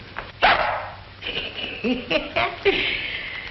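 A dog barks in a 1940s comedy set in a military camp: a few sharp, fairly close yips and barks spread unevenly over a few seconds, with bits of voice mixed in.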